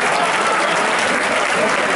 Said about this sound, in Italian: Un applauso all'amico là in fondo